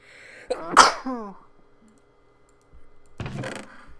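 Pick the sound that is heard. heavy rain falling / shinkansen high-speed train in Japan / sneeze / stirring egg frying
sneeze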